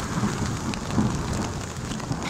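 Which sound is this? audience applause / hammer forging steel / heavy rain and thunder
heavy rain and thunder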